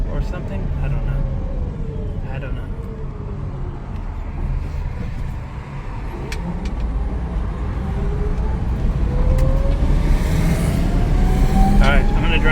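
A Miles electric truck with a fault drives along, steady road rumble and tire noise with a thin rising motor whine gliding upward several times, the noise building slightly toward the end.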